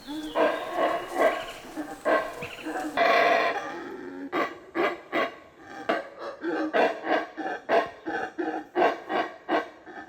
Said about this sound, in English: I was skeptical that we'd see any monkeys as the guide promised, but shortly after starting to walk, the howling began.